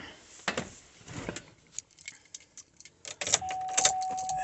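Keys jangle in short metallic bursts, several quick clinks and rattles close by, followed by a faint steady tone under more jingling.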